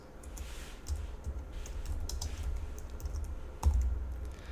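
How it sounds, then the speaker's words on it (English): Typing on a computer keyboard, with quick, soft, irregular key clicks over a low background hum. It is quiet and nearby, and a slightly louder keystroke comes near the end. "And as I start to type,"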